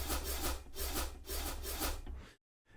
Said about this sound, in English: Then a scratch in and scratch out for your sweet little cadence hip-hop effects